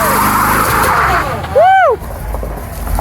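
A 1975 Chevrolet C10 pickup spins its tires and burns rubber: a loud engine roar with a brief rising-and-falling tire squeal in the middle, and a person whoops over it.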